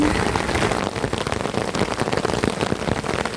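Steady rain patters densely on a surface, close and continuous.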